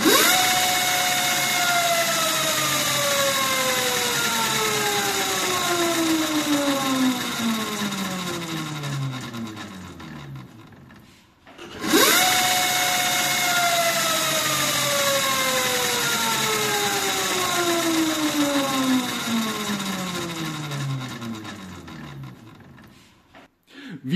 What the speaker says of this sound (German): Jetzt geben wir einmal Vollgas mit nur einem Akku.